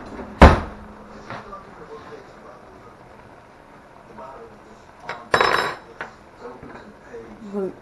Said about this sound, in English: Just going to grab a spoon and give it a taste to see if we have enough salt in it.